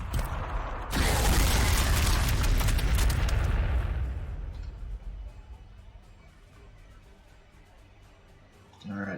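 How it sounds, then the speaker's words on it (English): Frag missiles from a missile team explode in the Warhammer 40,000: Sanctus Reach strategy game, a loud broad blast near the start that rumbles on for a few seconds before fading into quieter battlefield ambience. "Missile team, let's spread some frag."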